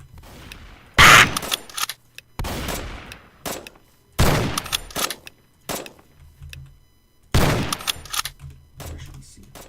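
Gunfire in the video game Rust, several separate loud bursts of shots spaced a second or two apart with quieter gaps and faint background between volleys.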